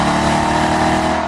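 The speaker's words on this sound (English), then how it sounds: "Its Hemi V8 also makes the most sweet, caramely V8 noise of any car here" A Dodge Challenger SRT8 Hemi V8 revs in a brief, loud, sustained burst with a rich, throaty engine tone close up.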